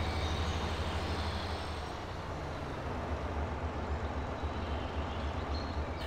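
Steady low engine drone of a farm vehicle in Farming Simulator 22 as it drives around a field boundary, a continuous close rumble with no breaks and no talk.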